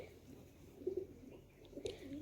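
Pigeons coo softly at a farm well during field irrigation, a few faint, low, throaty calls rising briefly over quiet background noise.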